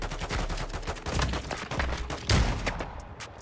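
Gunfire in a video game with a bomb objective: rapid, loud bursts of automatic shots and single cracks in quick succession, dense and close for the whole stretch, with a heavier thump partway through.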